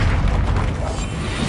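A Descendo spell cast in Hogwarts Legacy on PS5 lands as a loud, dense booming rumble that fills the whole short moment without any break.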